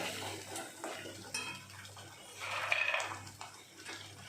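Cashews are added to a dhaba-style masala in a pan and stirred in: a metal spoon scrapes and clinks repeatedly against the pan, with a faint low hum behind.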